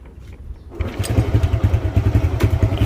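Modenas GT128 motorcycle with its fuse removed kicks into life after a faint lead-in, then settles into a close, loud, pulsing single-cylinder idle.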